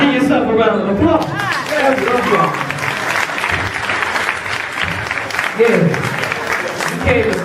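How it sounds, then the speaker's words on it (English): Audience applause at a recovery gathering on recidivism and stigma, steady loud clapping that runs the whole stretch, with cheers and voices calling out over it. "Give yourself a round of applause."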